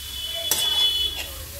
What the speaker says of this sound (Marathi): 5 मिनटानंतर मी परत ओपन केलेलं आहे झाकण काढून घेऊन परत हलवायचं आहे त्याला